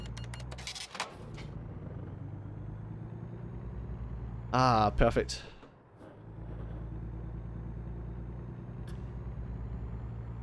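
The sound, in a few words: truck engine starting and driving in video game American Truck Simulator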